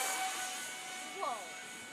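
A Spitfire model aircraft engine at quarter throttle on a maiden flight, a steady high whine heard at a distance, faint and continuous, with a brief short tonal swoop partway through.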